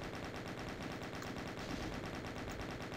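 Rapid gunfire from Doom II weapons inside the Citadel level, a steady dense stream of shots at constant loudness over a low game rumble, with no voices.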